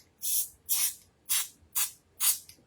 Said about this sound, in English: It's just spraying foam right now.